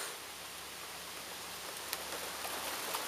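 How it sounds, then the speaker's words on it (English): Rain just starting to come down outdoors on a Friday makes a faint, even hiss, with a couple of brief soft taps near the end and no talking. "Yeah, see the rain coming down?"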